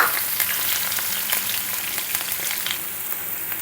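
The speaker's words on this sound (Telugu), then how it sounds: "తర్వాత ఇలా సన్నగా తరిగి పెట్టుకున్న ఆనియన్ ముక్కలు వేసేసుకున్నాను." Thinly sliced onion pieces frying in a pan with chana dal, urad dal and cumin, a continuous close sizzle with crackling pops scattered throughout, no talking.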